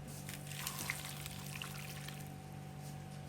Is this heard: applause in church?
no